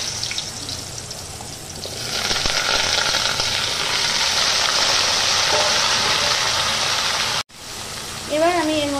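Diced potato and Himalayan squash hit hot oil with whole cumin seeds, a loud broadband sizzle swelling after the first two seconds and holding steady, briefly cut off near the end before a short whistling tone.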